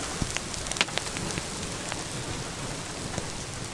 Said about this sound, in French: Oh, la grêle. Des gros morceaux.